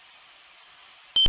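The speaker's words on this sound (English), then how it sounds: "A beep emanates from your wristwatch." A wristwatch in the Space Quest 2 video game gives a short electronic beep, two quick bright tones that come right after a faint steady hiss.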